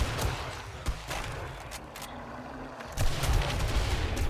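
A max-level sniper rifle firing in the survival game 7 Days to Die, with several sharp, booming shots spread irregularly over a low rumbling background, loud and close.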